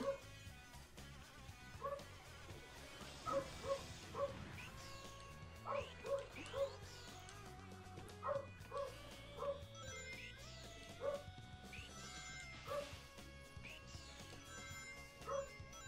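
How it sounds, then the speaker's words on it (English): Dogs in Sonic Adventure DX barking repeatedly with short sharp yips, scattered over busy game music and effects, fairly quiet overall. "The dogs are back."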